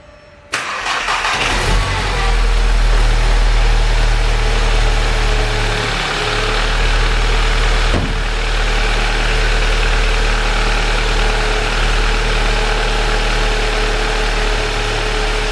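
A Volkswagen Golf GTI Mk7 engine cranks and catches, then settles into a steady, loud idle with a low rumbling hum that continues unbroken.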